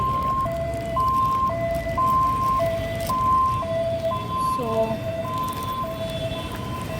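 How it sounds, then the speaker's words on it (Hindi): A two-tone siren alternates steadily between high and low pitches, somewhat distant over traffic noise, with a brief voice in the middle. "एम्बुलेंस जा रही है।"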